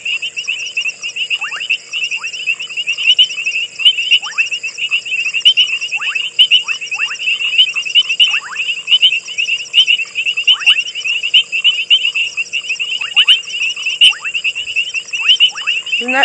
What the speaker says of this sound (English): I want you to very quickly have a listen as to the beautiful sounds of the frogs